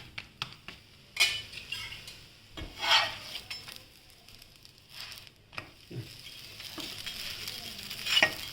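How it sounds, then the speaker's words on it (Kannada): Peanut and gram-flour holige flatbread cooks on a hot pan, browning on both sides. A steady soft sizzle runs throughout, broken by several short scraping and clinking bursts from a utensil, with no talking. "ಎರಡು ಕಡೆ ಹೀಗೆ ಬ್ರೌನ್ ಆಗೋ ಹಾಗೆ ಬೇಯಿಸ್ಕೊಂಡ್ಬಿಡಿ"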